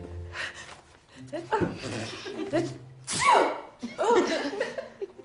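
A single sneeze among lively talk, with several voices speaking around it in a room.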